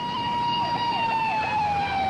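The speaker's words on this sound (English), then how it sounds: "I saw a Norwood police car go by my house." A police car siren wails loudly and close by, its sweeping tone sliding steadily downward as the car passes, with traffic noise beneath.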